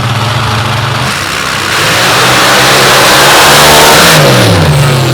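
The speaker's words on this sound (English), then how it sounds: "Dale and Steve and their buddy Dan Sutter field that front engine rail with a 581 cubic inch Hemi built by Brasket Race Cars" A front-engine dragster with a 581 cubic inch Hemi on a Brasket Race Cars chassis revs hard at a drag strip, a loud, sustained roar with rising and falling engine pitch throughout, no talk over it.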